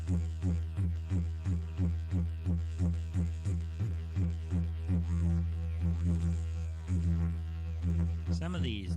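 Circular breathing on a wind instrument, using continuous sniff breaths with small exhalations between them, makes a firm, steady rhythmic pulse of repeated tones. The pulses sit close and even for most of the passage and thin out near the end.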